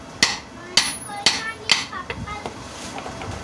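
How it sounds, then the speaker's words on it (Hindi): A bearing is hammered into a metal motor end plate during electric motor repair: four sharp, loud metallic strikes in steady rhythm, then several lighter taps trailing off. "अब प्लेट में हमने बैरंग ठोक लिया"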